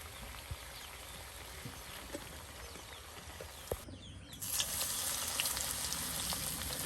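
Potato fritters (shredded aloo bora) fry in hot oil in a village Bengali kitchen, giving a steady, close broadband sizzle and hiss that swells louder toward the end, with scattered small pops and clicks.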